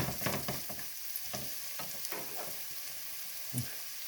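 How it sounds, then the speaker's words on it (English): Flour cooking in butter in a pan over medium-low heat for a gravy roux, with a quiet sizzle and repeated scraping strokes of the stirring spoon, close and without speech. "So we want to cook our flour for at least 2 minutes, and we'll keep it at the same temperature, medium low"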